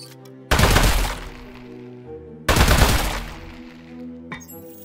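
Two loud bursts of gunfire from Aperture Desk Job, the first starting about half a second in and the second near two and a half seconds, each decaying over a sustained musical backdrop, with a sharp crack just before the end.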